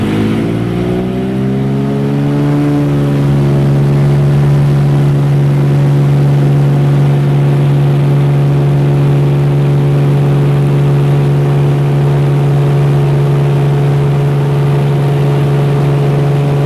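Loud, steady piston-engine drone of a floatplane in flight, a Cessna 206 or de Havilland Beaver over the Yukon near Whitehorse, rising slightly in pitch at the start and then holding an even hum.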